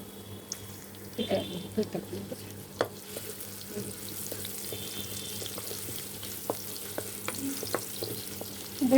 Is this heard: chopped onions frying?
yes